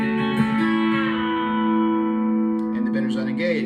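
B-bender guitar playing a country lick at full speed, bright twangy notes with a string bent up and released, ringing sustain that fades near the end, then a quick flurry of picked notes, clear and close.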